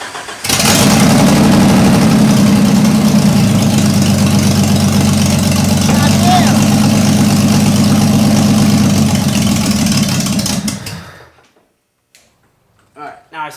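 A Jeep YJ engine fires up after about two and a half years unused, then runs at a loud, steady idle for around ten seconds before cutting off abruptly into near silence.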